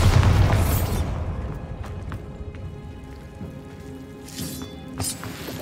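A Bombarda spell explosion in Hogwarts Legacy bursts loud and close at the start, then decays into a crackling, rain-like debris wash with a few fainter pops and a second softer burst near the end.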